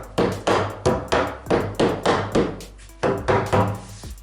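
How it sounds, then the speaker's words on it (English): A hammer strikes a wooden wall board on a recording-studio outer wall to level it, about eight sharp, solid blows in a steady rhythm with one brief pause, close and loud, with no talk. "just level that out. I just used my hammer."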